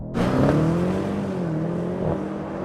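A drag race between a BMW M850i, a Tesla Model 3 and a Mercedes-AMG E63 S: a sudden loud surge of engine roar at the launch, then a sustained rising drone as the cars accelerate away.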